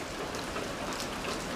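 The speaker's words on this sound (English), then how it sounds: "Hey, it's raining." Rain falls steadily outdoors as a dense, even hiss of drops on surfaces, close and continuous through the short stretch with no talking.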